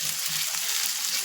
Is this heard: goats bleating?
no